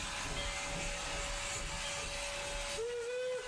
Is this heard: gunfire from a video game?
no